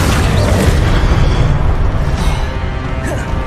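A Confringo explosive spell blast from Hogwarts Legacy booms loud and dense, a sustained low rumble with crackling bursts filling the whole span alone, no voices over it.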